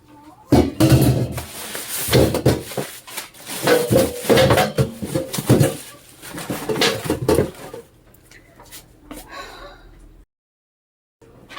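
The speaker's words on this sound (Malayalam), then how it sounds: "സിങ്കിലെ പാത്രം കഴുകാതെ മീൻ കഴുകാൻ നമുക്കിഷ്ടമല്ലല്ലോ" Clattering dishes and running water at a kitchen sink, with bursts of clinking for several seconds before things go quiet.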